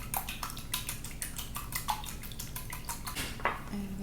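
A utensil beats eggs in a bowl with rapid, steady ticking strokes, close and quiet.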